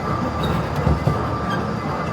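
A small mall ride-on train rumbles along steadily with faint wheel clatter and a continuous rolling hum, close by and without voices.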